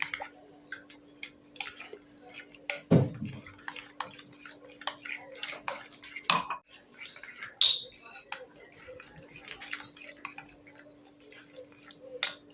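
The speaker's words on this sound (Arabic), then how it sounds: "صافي غنخلطوا هاد المكونات كاملين" Eggs, oats and cheese are stirred together in a bowl, with scattered spoon clinks, scraping and wet tapping sounds, a few sharper knocks, and a voice talking at times.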